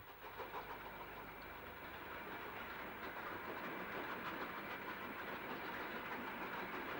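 A WD freight locomotive hauls a coal train from Orgreave coke works toward Frodingham in the 1960s, a steady moderately loud rumble and rolling wagon noise sustained throughout, with no voices.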